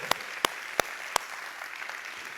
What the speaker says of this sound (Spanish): Dale un fuerte aplauso al Señor. Este aplauso es para ti, Padre.